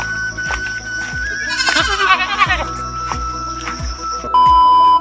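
Goats bleat close by in a short burst of wavering cries, set against regular low thumps and a steady tone near the end.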